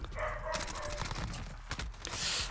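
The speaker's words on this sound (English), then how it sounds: "I just heard my dog bark" A dog barks a few times indoors, sharp yips cutting through the steady bursts of gunfire and action from a Modern Warfare multiplayer match with an MP5 loadout.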